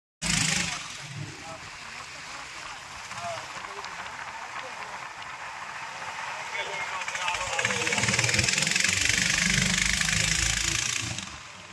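A boat engine idling at a riverside landing at Thanchi, Bandarban, where boats wait for the trip toward Langlok waterfall, a steady mid-range rumble that swells louder toward the end, with faint voices mixed in.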